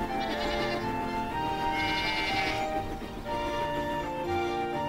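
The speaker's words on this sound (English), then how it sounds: "There are farms with goats." Goats on a farm bleat in a cartoon scene, several overlapping wavering cries, loud and close, layered over a busy background with no break.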